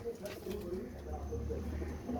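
Teddy pigeons coo in low, repeated soft calls, fairly faint, with a voice talking over them.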